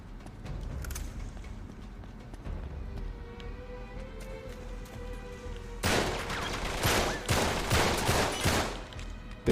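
Gunfire in Uncharted 3: Drake's Deception: scattered distant pops and a brief steady tone give way to loud, rapid bursts of automatic fire in the last few seconds, close by and without speech.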